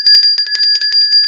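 A bright bell rings in a rapid, steady series of about a dozen strikes, loud and close, with sustained metallic tones and nothing else heard.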